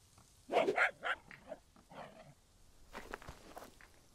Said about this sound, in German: so ein Hund.